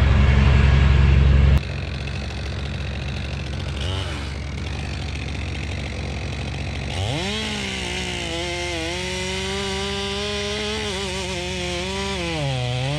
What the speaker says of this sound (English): You want me to run the saw a little bit?